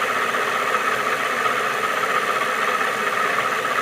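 Small electric motor running in a homemade coil test rig, giving a steady, even whirring hum with a buzzing upper tone, continuous and close, without talk.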